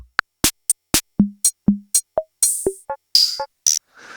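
A run of punchy electronic drum hits from a Roland CR-78 drum machine emulation: deep booming kicks, snappy snares, clicky toms and hissy cymbals, each sounding alone with short gaps.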